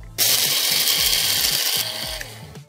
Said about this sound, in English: I'm gonna put these into my spice grinder and turn them into a caper powder.